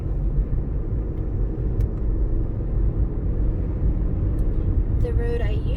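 A car drives along a road on a stormy day with very strong wind, a steady loud rumble of engine and tyres mixed with wind buffeting the whole way through, with a brief faint clatter near the end.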